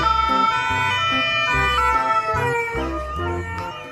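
A toy ambulance plays a loud, close electronic siren with a repeating two-tone wail in a steady alternating pattern, with no talking over it.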